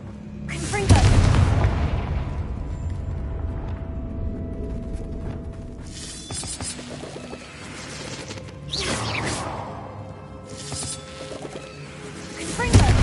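Confringo spell blasts from the Hogwarts Legacy video game boom out in several loud bursts with crackling tails and whooshes, set against a steady background of game sound.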